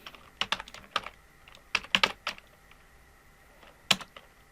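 Keys struck on a computer keyboard, a short irregular run of close, crisp clicks in small clusters with gaps between them, ending on one final isolated tap.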